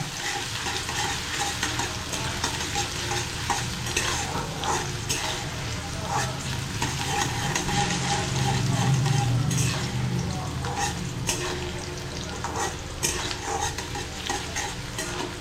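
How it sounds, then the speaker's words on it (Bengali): Sliced onions frying in hot oil for a lentil dish, a continuous close sizzle with repeated scraping and stirring strokes in the pan throughout. "তেলটা আমার গরম হয়ে গিয়েছে এর মধ্যে আমি হাফ পেঁয়াজ দিয়েছিলাম হাফ পেঁয়াজ আমি পরে দেবো পেঁয়াজটা আমি হালকা ভেজে নেব"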